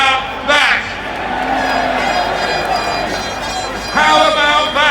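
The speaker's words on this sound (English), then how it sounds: "A crowd of Brexiteers cheer Tony Blair." A crowd of Brexiteers cheering Tony Blair, a dense, steady roar of many voices with louder bursts of shouting near the start and again toward the end.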